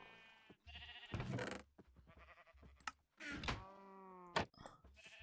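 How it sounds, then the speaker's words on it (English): Sheep bleat in a barn on a Minecraft automatic wool farm: several drawn-out, wavering bleats, some overlapping, with soft thuds between them. "inside the barn, I have all the sheep with automatic farm for them generating wool"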